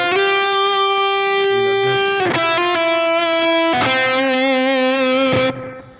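A distorted electric guitar plays a sustained lead line through a Line 6 POD Go with an Archetype lead tone: big, powerful held notes with bends and vibrato, loud and saturated, alone with no talking.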